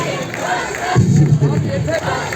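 A crowd cheering for a singer at a live event, with loud, sustained shouts and a swelling roar from many voices that peaks midway, close and full throughout.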